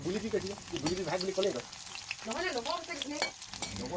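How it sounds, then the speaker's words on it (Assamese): Tripe frying and being stirred in a pan, a continuous close sizzle and scraping under a voice speaking throughout. "এয়া পেটু ভাজিখিনি বনাবলৈ আৰম্ভ কৰিছোঁ"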